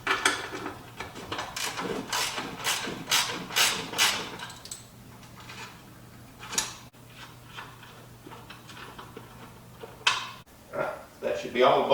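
A hand wrench ratchets in quick clicking bursts while removing 16mm bolts from a Jeep JK rear bumper, the clicks close and crisp with pauses between runs and a faint steady hum underneath.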